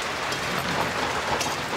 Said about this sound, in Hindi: तो दोस्तों बारिश होना स्टार्ट हो गया है, इसीलिए बहुत अंधेरा आप लोगों को दिखाई पड़ रहा होगा।